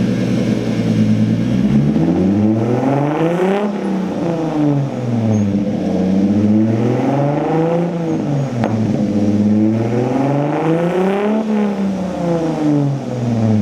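A Datsun's engine idles and revs after a fresh R200 limited-slip differential install with 3.90 gears and Z31 CV shafts, loud and close, rising and falling in repeated sweeping revs throughout.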